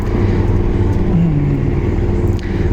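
Cars driving in China, heard as a steady, loud low engine and road rumble with a faint passing tonal whine, continuous and without talk.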